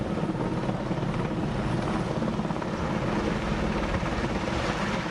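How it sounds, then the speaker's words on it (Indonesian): A BNPB water-bombing helicopter works a landfill fire at TPA Sarimukti in West Bandung, its rotor beating in a constant, dense, loud roar with no break. "Salah satunya menggunakan helikopter waterbombing."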